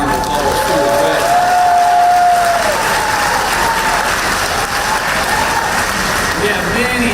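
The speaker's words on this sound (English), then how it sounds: "Let's give Secretary Leffler a big round of applause too as well" A packed audience at a political rally in Peachtree City, Georgia, applauds steadily, with a dense wash of clapping and some cheering lasting the whole stretch.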